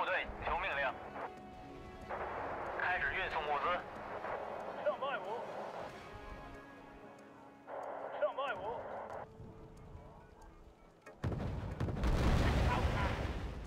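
Artillery shells explode in the strategy video game Wargame Red Dragon, ending in a loud, sustained rumbling blast, while someone talks throughout over quieter game sounds.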